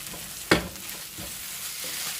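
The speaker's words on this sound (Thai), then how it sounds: "แล้วก็จะผัดให้เข้ากันแค่นี้ค่ะ" Rice stuffing for Arabic stuffed zucchini being stir-fried in a pan: one sharp, loud spatula scrape stands out, followed by softer scraping and a low, steady sizzle, with no talking.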